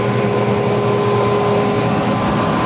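A John Deere tractor pulls a tined tillage tool with 3.5 discs across a farm field, its engine giving a loud, constant droning hum with steady tonal whine and rumble, heard from inside the cab with no talk.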